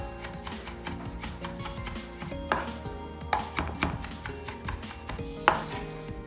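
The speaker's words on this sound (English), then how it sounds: "What I am going to do is take this chilli, just going to give it a little chop" A knife chops slow-cooked beef chilli on a board in a series of soft, uneven taps, quiet and close, with a few sharper knocks standing out among the cuts.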